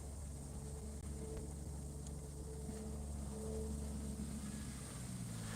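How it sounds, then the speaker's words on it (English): Low, steady engine rumble from a tractor running in the background, continuous and fairly distant, with a constant droning hum and no talking. "You can hear the tractor in the background."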